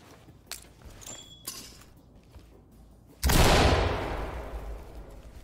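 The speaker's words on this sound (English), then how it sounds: "Flashbang out!" A flashbang bursts loudly about three seconds in and its noise slowly fades, with faint footsteps and scattered shots before it. Setting is a police tactical shooter video game.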